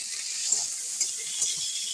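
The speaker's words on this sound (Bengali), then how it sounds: "আমি প্রথমে উচ্ছেগুলো একটু ভাজা করে নেব।" Bitter gourd pieces fry in a pan of hot oil, making a steady bright hiss with a few faint stirring knocks, close and continuous until it cuts off.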